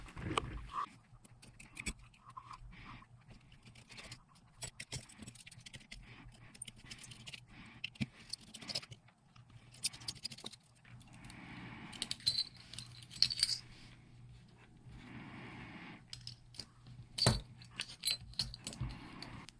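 Small clicks, faint metallic ticks and light rattles from a T6 driver working four tiny bolts out of a Nebo Mycro keychain flashlight, quiet and close with no one speaking.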